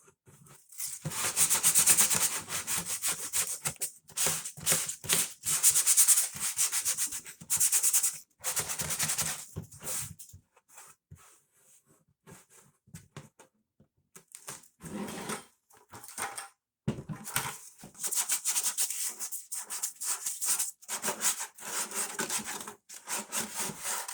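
Someone sands with 150-grit sandpaper, making close, rasping back-and-forth strokes in long bursts broken by short pauses, with a longer quiet gap partway through.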